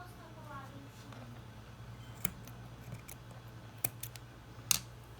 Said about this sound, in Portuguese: vamos cortar o fio